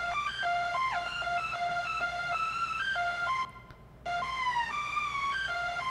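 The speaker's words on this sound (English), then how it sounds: "So without it, it sounds like this. And as you turn it up." Detuned supersaw synth lead with glide turned up, playing a stepped melody whose notes slide between pitches, loud and steady with a brief dropout midway, no voice.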